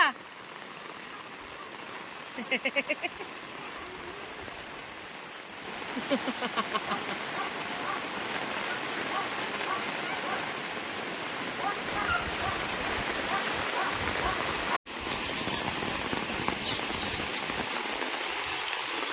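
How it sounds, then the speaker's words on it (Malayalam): Heavy rain pours down steadily in a loud continuous roar, with a few brief voices and rhythmic sounds early on. "നോക്കേ മഴ"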